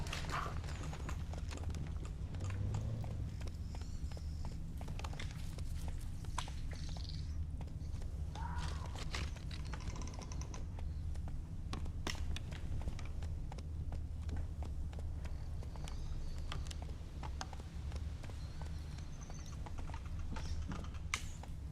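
A horse gallops in The Witcher 3: Wild Hunt, with steady rhythmic hoofbeats over game ambience and music, close and continuous throughout with no voices.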